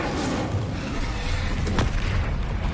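An Incendio fire spell cast in Hogwarts Legacy, a rumbling whoosh of game fire with a sharp burst near the middle, dense and sustained across the whole moment.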